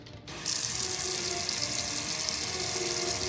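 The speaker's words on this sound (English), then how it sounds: "my bathroom faucet leaks" A bathroom faucet is running, leaking water at its base; after a brief quiet moment the tap opens into a steady, close hiss of flowing water that continues evenly.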